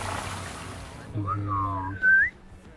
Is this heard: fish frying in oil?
no